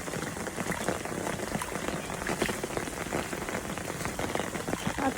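Steady rain falls on a path in a dense, even patter that fills the whole stretch, with no voices.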